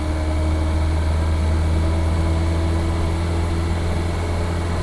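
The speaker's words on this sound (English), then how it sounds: "It's a nice noise when you're driving it as well. Smooth as a sewing machine, that engine" A rebuilt classic car engine runs at a smooth, steady idle with a constant low hum, close and loud, with no voices.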